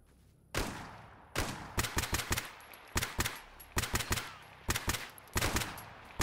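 Bursts of automatic gunfire crackle through a swampy firefight in the shooter game Stalker GAMMA, with sharp, loud volleys repeating every second or so over quiet ambient background.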